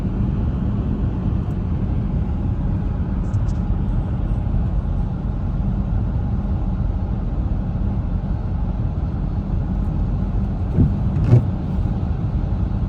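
Steady low road rumble of a car driving through Minsk during an airport pickup, heard from inside the cabin, with a continuous engine and tire drone and a faint brief knock near the end.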